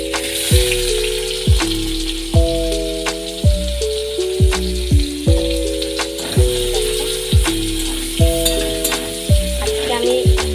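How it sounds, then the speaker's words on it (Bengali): Onion and two chillies frying in hot oil, a loud, steady close sizzle and crackle with a repeating rhythmic rattle of stirring running throughout. "এই তেলের মধ্যে আমি প্রথমে পেঁয়াজটা দিয়ে দেবো, আর দুটো লঙ্কা দিয়ে রেখেছিলাম ওটা দেবো।"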